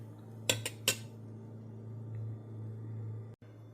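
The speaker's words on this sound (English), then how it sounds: "I'm still stirring it to keep it from scorching." A metal spoon scrapes and clinks against a pot three times in quick succession while stirring milk for farmers cheese, over a low steady hum, then quiet.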